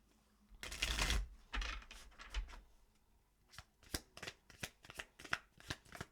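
Tarot cards shuffled by hand, a dense riffling burst early on followed by a run of quick, crisp card flicks and slaps, close and fairly quiet.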